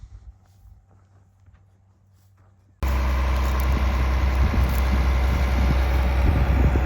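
A 280-horsepower Case tractor engine runs in a farm setting. After a quiet stretch with faint ambient noise, a loud, steady low engine drone cuts in abruptly and continues close by.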